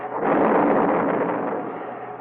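A missile deliberately destroyed in flight by a range safety officer via remote control, heard as a sustained, dense rumbling roar that swells quickly and holds steady for about two seconds.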